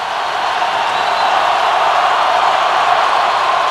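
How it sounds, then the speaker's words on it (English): Packed college football stadium crowd at the Alabama versus Auburn Iron Bowl roars continuously before a fourth-down play, a loud, steady wall of cheering and noise with no distinct voices. "Listen to this crowd."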